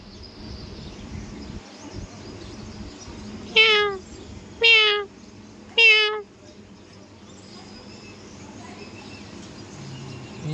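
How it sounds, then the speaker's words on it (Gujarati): Three loud meows from a nearby cat, evenly spaced about a second apart, over a quiet hum of background noise. "બિલાડી મ્યાવ મ્યાવ કરતા હતા"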